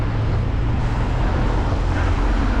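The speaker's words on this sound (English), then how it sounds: "Traffic's a bit heavy, as you can probably hear." Heavy road traffic passing a runner on a ten-mile training run, a continuous loud low rumble and broadband roar of vehicles without distinct pauses or voices.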